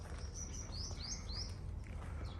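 Several quick, high sparrow chirps in a short run, fairly faint, over a low steady outdoor rumble in the Al Ain Oasis, UAE, with water running in irrigation channels.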